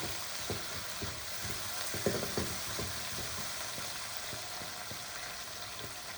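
Sliced onions fry in a pan for a chickpea curry, a continuous close sizzle punctuated by irregular stirring taps and scrapes, with no voices.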